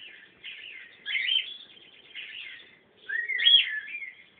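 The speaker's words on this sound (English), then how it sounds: "the Birdsong Radio and Pepper is tripping." A small pet conure or cockatiel chirps and whistles in short bursts of warbling song, fairly quiet and close, with brief pauses between phrases.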